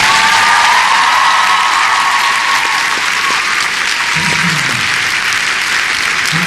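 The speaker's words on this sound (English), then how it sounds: "Give him a round of applause." A crowd applauds a winner continuously and loudly, a dense wash of clapping with faint cheers and whoops mixed in, holding steady for the whole stretch.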